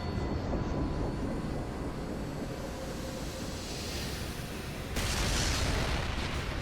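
A big explosion in the animated show Avatar: The Last Airbender, a sustained, roaring broadband blast that swells louder toward the end, with no talking.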